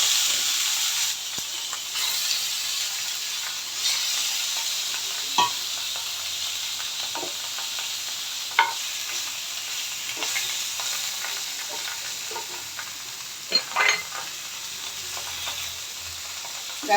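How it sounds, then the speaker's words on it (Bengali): Pieces of fish frying lightly in a pan, a constant close sizzle and hiss with occasional pops and crackles scattered through, steady and alone. "এখন আমি মাছটা ভেজে নিব, এই যে হালকা করে ভাজা করে নিব মাছটা।"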